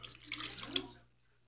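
Warm water poured into a bowl while making pizza dough, a brief splashing pour of about a second that cuts off into near silence.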